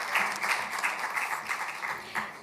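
Audience applause at an assembly of local and regional leaders in Valongo rises as a steady, moderately faint wash of many hands clapping in a hall, with no voices over it.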